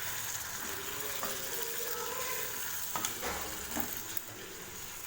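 Chicken masala for a Tamil-style chicken fry sizzling steadily in a pan over low flame, with a few soft scraping stirs breaking through the continuous close frying hiss.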